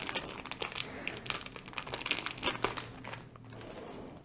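Small tools in crinkly plastic packaging being handled and pried open, with close, irregular crackling and crinkling rustles in uneven bursts that die down toward the end.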